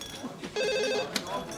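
A telephone rings in a sitcom living room, a steady electronic trill that starts partway through and carries on at moderate loudness while voices talk over it.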